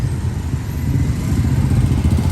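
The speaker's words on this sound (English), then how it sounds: "A lot of motorcycles. This is a big motorcycle town here." Motorcycle engines rumble by on a busy Dumaguete street, a close, loud, low continuous drone with a slight pulsing, no voices.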